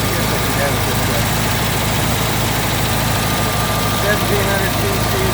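A 1969 Porsche 912 with a 1700 cc engine idles steadily and loudly at close range, a continuous low rumble that holds even throughout.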